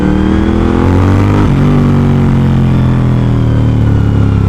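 Suzuki SV1000S V2 motorcycle rounds a sharp hairpin on Arkansas Highway 123, its V-twin engine droning loud and close with a steady throb and a brief shift in pitch partway through, over wind noise.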